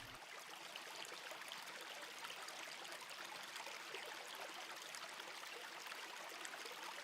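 Potash Brook flows in an urban natural area, a faint, steady trickle and rush of stream water that continues unbroken with no voices.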